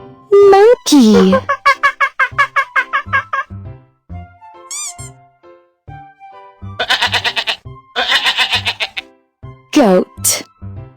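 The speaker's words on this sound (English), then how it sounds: "G-O-A-T, goat." A goat bleats in several loud, wavering cries separated by short gaps, alternating with clear spoken words from a single voice between the calls.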